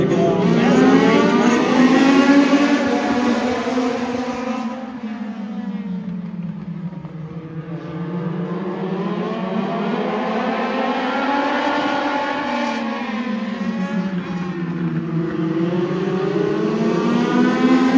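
Legends race cars at Kern Raceway, a loud pack of engines droning and revving together close by, pitch rising and falling in slow waves as the cars circle, continuous and steady throughout.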